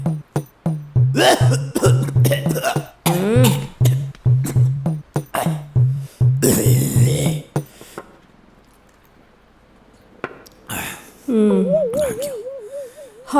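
A person coughs heavily in a long string of harsh, wheezy bursts that are loud and close, then the coughing stops and voices speak briefly.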